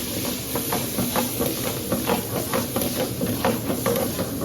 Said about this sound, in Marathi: या ठिकाणी मटन फ्राय बनत आहे